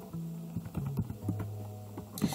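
Light clicks of typing on a computer keyboard, a short run of quiet keystrokes at close range with no talking.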